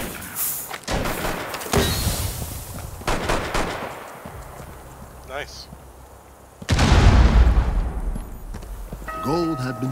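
Gunshots in the video game Rainbow Six Siege during a showdown special event: sharp loud reports and bursts of gunfire separated by quieter game ambience, with a heavy blast near the end.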